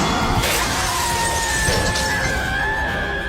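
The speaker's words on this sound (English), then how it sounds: "How could the 12-centimeter thick tempered glass barrier be shattered so easily?" A thick tempered glass barrier shattering as a movie sound effect, a loud crash with bright crackling fragments and a lingering ringing tail.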